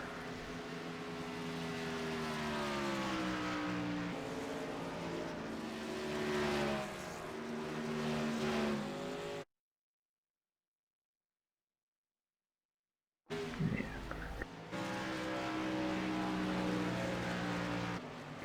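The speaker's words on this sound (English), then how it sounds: "let's get back to these trucks and have a look at these guys going around in warm-up" Racing trucks in an iRacing sim lap Homestead in warm-up, a continuous loud engine drone with rising and falling pitch sweeps as trucks pass, cut by a few seconds of dead silence before the roar resumes.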